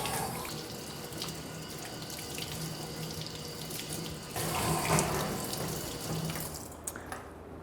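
A firefighter's breathing mask is rinsed under a running tap, making a steady close splash of water that shifts as the mask moves through the stream, with no speech.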